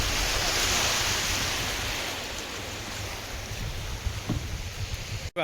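A boat motoring across the sea, with a steady roar of waves, hull wash and wind rushing close to the microphone, loud and continuous, with a brief knock near the end and no talking.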